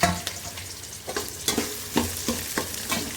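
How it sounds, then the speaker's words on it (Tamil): Onions and green chillies sauté in a pan over a medium flame for a river fish curry, with steady sizzling broken by repeated, rhythmic spatula strokes scraping the pan up close. "பச்சை மிளகாவும் வெங்காயமும் நல்லா வதங்கணும்"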